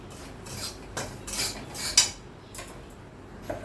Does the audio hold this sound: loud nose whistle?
no